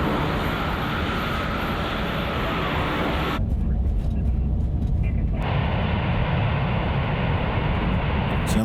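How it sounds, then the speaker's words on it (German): An Airbus A380 rolls out on the runway after landing at San Francisco, a steady loud roar of engines and rolling noise that drops briefly into a deeper rumble, with a voice talking underneath. "Deswegen kann man die 380 da gemächlich ausrollen lassen."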